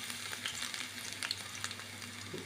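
Finely chopped garlic fries in hot oil with a continuous close sizzle and scattered small crackles and pops.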